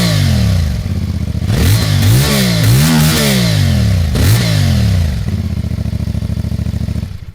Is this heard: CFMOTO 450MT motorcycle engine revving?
yes